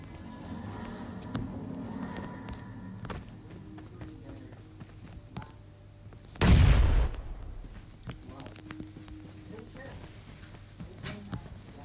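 A single sudden explosion booms midway through, deep and brief, amid quieter game sounds of running footsteps and distant gunfire.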